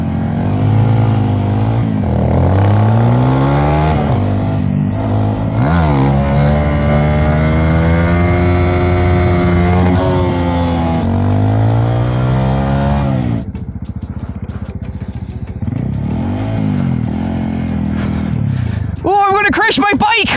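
A fuel-injected Suzuki DRZ big bore motorcycle being ridden, its engine rising and falling in pitch through repeated revs and gear changes, loud and close, with a rider's voice talking over it.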